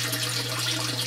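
Full water flow pouring steadily into an autosiphon standpipe, a continuous close rushing and trickling with a faint low hum underneath, no voices.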